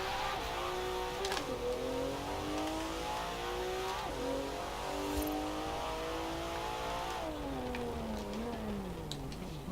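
Porsche 911 (992) engine in Forza Horizon 4, a steady rumbling tone that rises and falls with throttle, shifting pitch through revs, continuous and close with no voices.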